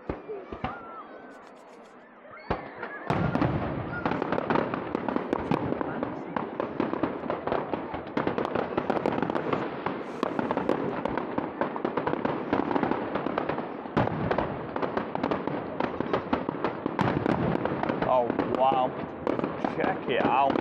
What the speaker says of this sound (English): Started with a big bang this week.